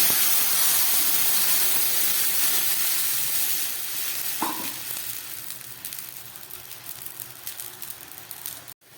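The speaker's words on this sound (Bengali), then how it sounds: "একটু তেল দিয়ে দিলাম, এবার দিয়ে দিচ্ছি জল" Water poured into a hot kadai slicked with a little oil, sizzling and steaming in a broad hiss that slowly fades, with a brief clink partway through, for making a rice-flour dough for pithas.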